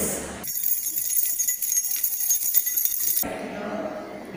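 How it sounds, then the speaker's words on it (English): Metallic jingling of keys shaken together for a few seconds, fairly close, ending abruptly. "that's the sound of a bunch of keys."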